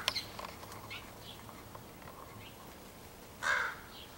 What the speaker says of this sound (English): Hi, baby crow.